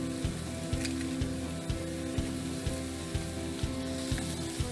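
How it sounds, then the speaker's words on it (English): Eggs cracked into a hot pan sizzle steadily for egg fried rice, a continuous frying hiss under a low steady hum, with soft regular taps about every half second, no voices. "Now we're going to crack in our eggs."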